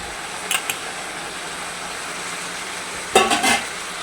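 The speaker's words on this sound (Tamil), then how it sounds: "காய்கறி நல்லா கொஞ்சம் நடு பதத்துக்கு வதங்கி வந்துக்குதுங்க" Vegetables sautéing for a dried fish curry, a low steady sizzle with two brief bursts of spatula stirring against the pan, close but modest in level.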